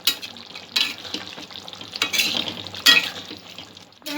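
Spicy prawn Manchurian is stirred in a pan over a gentle frying sizzle, with several distinct scraping sweeps and clinks of a utensil against the pan at irregular intervals, close and moderately loud.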